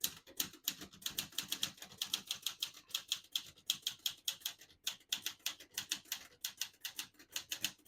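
A 1971 Olivetti Lettera 32 portable typewriter being typed on, rapid steady keystrokes clacking close up in an unbroken rhythm with no talking.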